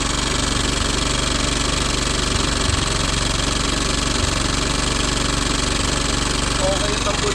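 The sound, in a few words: vehicle engine idling, exhaust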